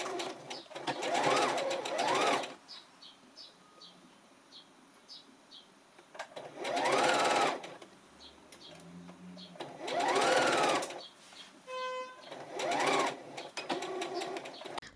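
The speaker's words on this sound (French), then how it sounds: "Donc on va aller coudre les épaules et les côtés." A sewing machine stitches the shoulder and side seams of a dress in several bursts of rapid, even whirring, each lasting a couple of seconds with short quiet gaps between, close and clear against a faint background.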